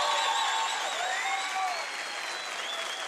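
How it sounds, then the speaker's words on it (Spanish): A crowd at a stage celebration applauds loudly, a dense wash of clapping that holds steady and then eases slightly toward the end, with faint cheering mixed in. "¡un aplauso!"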